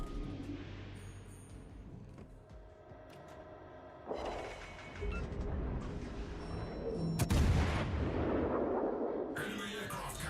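Warship cannons firing armour-piercing rounds during a naval battle game, heavy booms and blasts rolling over a constant engine and battle rumble, with a sharp loud report near the middle and other shots trailing off.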